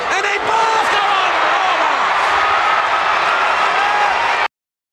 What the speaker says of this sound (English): That's the crowd the whole time.